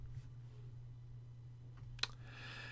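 A single soft click of a computer mouse sounds once, brief and close, over a low steady electrical hum in an otherwise quiet room.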